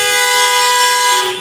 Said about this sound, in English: Nothing's moving, just honking of horns.